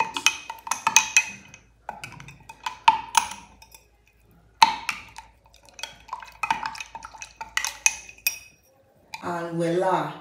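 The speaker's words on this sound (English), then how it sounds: "I'm just going to go ahead and mix everything together." A spoon mixes three ingredients together in a bowl, producing sharp clinks and taps against the side in irregular bursts with brief pauses, close and fairly loud. A short stretch of voice comes at the end.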